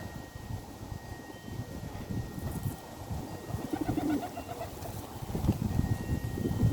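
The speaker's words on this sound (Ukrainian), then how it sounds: "Як бачу, птахи із великим задоволенням прилітають попити сюди води." Pigeons coo softly among scattered chirps as birds drink at a water feeder in a courtyard, over a continuous watery background murmur, with light rustling and fluttering nearby.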